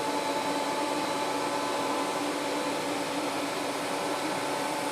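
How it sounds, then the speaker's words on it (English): A floor buffer runs steadily on a concrete floor with a loud, constant motor whir and broadband hiss, close to the microphone and unbroken throughout, with no talking. "So now, you know, one-handed, and you're buffing your floor."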